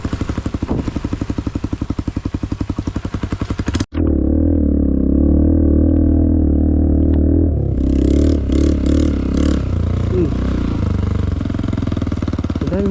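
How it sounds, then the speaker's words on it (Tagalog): A motorcycle engine revs loudly and close by on a dirt trail, running hard and steady, then cutting out abruptly before roaring back with a deeper, rougher drone and a few sharper throttle blips. "Ang motor dito."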